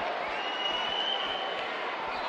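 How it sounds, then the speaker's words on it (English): A wrestling arena crowd roars steadily throughout in the video game WWE 2K17. The cheering is a continuous, fairly distant wash of many voices. "by the sound of this crowd, I think they're getting what they wanted."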